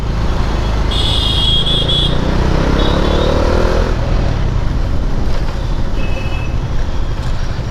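Bajaj Dominar motorcycle riding through city streets, a loud, steady engine and wind roar throughout with brief tonal beeps early on, no talk.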